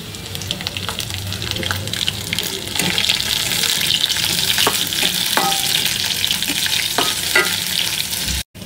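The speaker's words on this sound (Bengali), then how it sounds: "এখানে একটু এখন কাঁচামরিচ দিয়ে দিব।" Green chillies and onion frying in a wok, a steady close sizzle and crackle with occasional stirring scrapes throughout, no talking.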